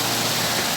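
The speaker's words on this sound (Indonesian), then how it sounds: "lagi hujan deras banget" Heavy rain pours steadily outside a house, a dense, continuous hiss close by with no other sounds.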